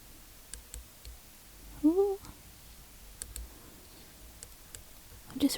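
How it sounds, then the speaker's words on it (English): An object tapped and clicking against a microphone holder, several light, sharp, close clicks spread out with a faint murmured voice in between. "here it is clicking against the microphone holder"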